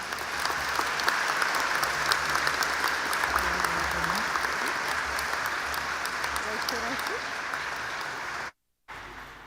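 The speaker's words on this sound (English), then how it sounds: "Let's give them a round of applause and thank you." Sustained, dense applause from an audience at a college graduation ceremony fills the room for several seconds, with a voice speaking over it before a brief drop-out near the end.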